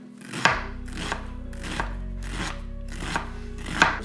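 A knife chops onion on a board in a steady rhythm, six or so crisp, loud thunks about two-thirds of a second apart, close up with no talking.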